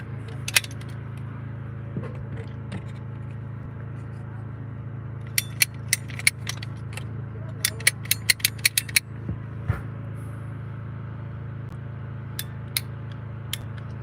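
A ratchet cutter snips PEX tubing during an RV main valve repair, giving a series of sharp clicks in two bursts against a steady background hum.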